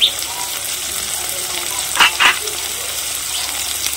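Ground coriander, cumin and turmeric frying in oil for a small river fish curry, a soft steady sizzle with a couple of brief scraping stirs near the middle, while a voice talks faintly.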